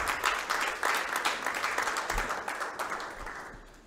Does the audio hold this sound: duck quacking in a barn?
no